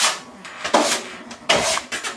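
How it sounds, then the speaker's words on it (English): A 12-inch drywall scraper dragged across a wall spreading spackle, making repeated rough scraping strokes in short bursts, close and fairly loud with no talking. "we're going to take my 12-inch scraper and just going to get all the way down"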